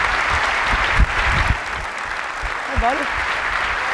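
A large Macworld 2008 keynote audience applauds steadily throughout, a dense roar of clapping with a man's brief greeting heard over it.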